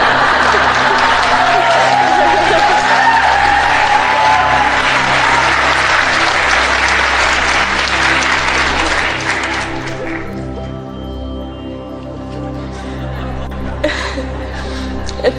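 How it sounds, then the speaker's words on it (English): Audience applause with scattered laughter fills a large room, loud and sustained for about ten seconds before thinning out, with light clapping lingering over a low musical background. "It feels good to hear the audience applaud."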